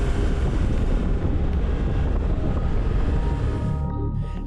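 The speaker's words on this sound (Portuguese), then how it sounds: "A lancha parte em alta velocidade." A military speedboat sets off at high speed, with a loud, steady roar of engine, rushing water and wind buffeting that eases slightly near the end.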